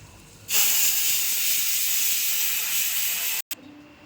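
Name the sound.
fish pieces frying in oil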